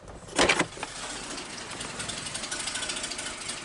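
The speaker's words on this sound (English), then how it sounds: "Vehicle's barely running." A 2009 Jeep Wrangler engine barely running at a rough idle during EGR valve testing, a faint uneven rumble with pulsing irregular beats after a brief louder burst near the start.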